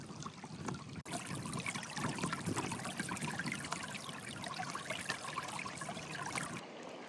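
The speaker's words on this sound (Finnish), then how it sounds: "ei onneksi ole hirveän kova virta tai syvä toi puro" A small, shallow forest stream trickles and burbles steadily, a dense close wash of water with no voices, cutting off briefly at one point and fading at the end.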